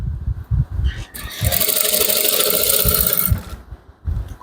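Sewing machine stitching the base of a pocket on a men's shorts garment, a steady whirring run of about two seconds framed by brief handling knocks and a voice before and after.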